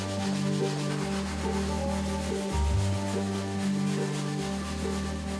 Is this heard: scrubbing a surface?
yes